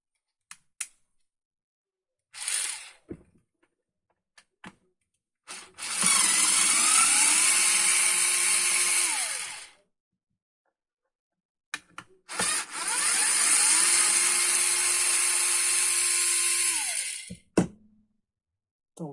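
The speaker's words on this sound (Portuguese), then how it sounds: "Agora eu vou vir com a parafusadeira e vou retirar" Electric screwdriver backing screws out of a Super Nintendo power supply, two long whirring runs of several seconds each with pitch shifts as the screws loosen, separated by clicks and handling noises.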